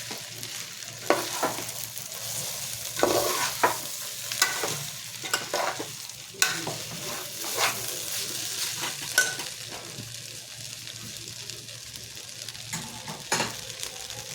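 Gobindobhog rice fries over low heat for sweet pulao, a gentle steady sizzle broken by repeated close scrapes and taps of a spoon stirring against the pan.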